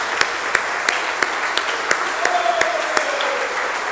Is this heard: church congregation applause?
yes